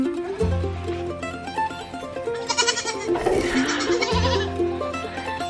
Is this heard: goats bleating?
yes